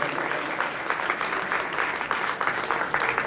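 A seated audience at an award ceremony closing a Shri Amritvani Chalisa Satsang celebration applauds warmly, steady dense clapping holding evenly for several seconds.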